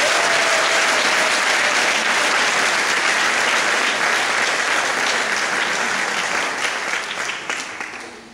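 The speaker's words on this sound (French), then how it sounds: "Applaudissez encore." Sustained applause from a large audience at a public gathering in Jacqueville, Côte d'Ivoire, dense and loud throughout before tapering slightly at the end.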